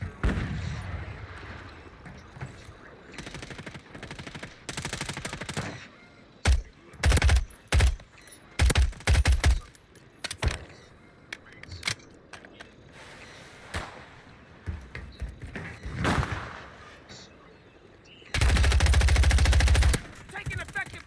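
Bursts of automatic gunfire in the Call of Duty battle royale on Rebirth Island, rapid clusters of shots with gaps, ending in a long loud barrage, with faint game voice prompts.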